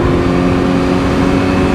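A sport motorcycle engine revving as the throttle is opened, a loud, steady, close roar sustained through the short moment with no talk.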